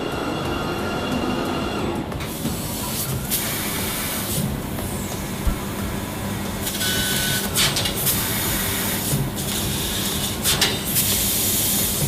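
LVD laser cutting machine working through a metal sheet, a steady loud dense machine roar with hissing and intermittent sharper bursts, no talk.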